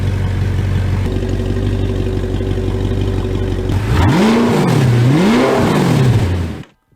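An Audi R8 engine idles with a deep burbling exhaust, then revs up sharply several times in rising and falling bursts before cutting off.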